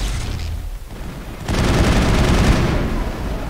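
Loud, dense gunfire from the video game Mass Effect, with a rumbling wash of shots and booms that swells sharply halfway through and continues heavily to the end.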